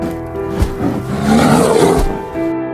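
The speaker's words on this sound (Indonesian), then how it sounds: "si beruang keburu datang dan langsung menyerang Sugimoto di saat itu juga" A bear in the film Golden Kamuy lets out a deep, rising roar as it attacks, loud and close, swelling in the middle before trailing off.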